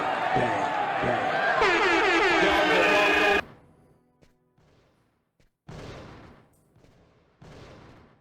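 Police shooting-range gunfire in the video game Fahrenheit: a dense, loud stretch of layered noise and tones, then after a lull two sharp reports, each trailing off in a decaying tail.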